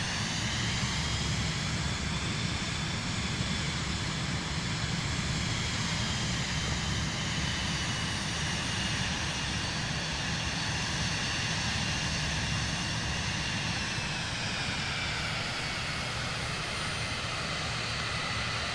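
An airplane in Microsoft Flight Simulator 2024 rolls out after landing on a runway, giving a steady, loud engine roar with broadband rushing noise that holds unbroken throughout, with no talk.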